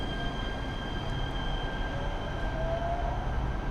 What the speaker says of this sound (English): We just got off of the train at Chinatown.